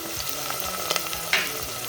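Spices tipped into a pot of simmering tomato stew for Sudanese yogurt stew, a steady close sizzle and fry with a brief sharper crackle midway, no voices.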